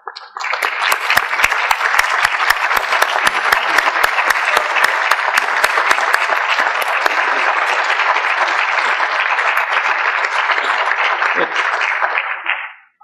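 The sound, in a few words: audience applause at a convocation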